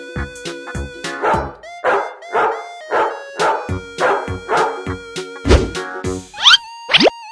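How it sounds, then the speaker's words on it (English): A dog barks in a quick series of about ten sharp, evenly spaced cartoon-style barks, loud and close over a bouncy music backing, ending with a couple of rising springy boing effects. "Dog."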